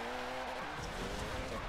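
Tires spin and squeal continuously under a loud, straining engine as a big-turbo Nissan iDx Nismo drift build loses traction while accelerating in the racing game Forza 7.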